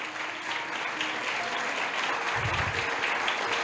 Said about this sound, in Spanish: ¿Cuántos le pueden dar un aplauso al Señor?